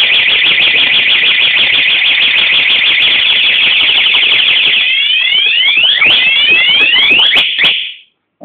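A loud alarm siren on a Honda MSX motorcycle, set off by an attempted start, blares nearby, a steady high tone shifting into rapid warbling sweeps before abruptly cutting off.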